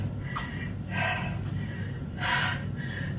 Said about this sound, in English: Hope I'm not the only one winded.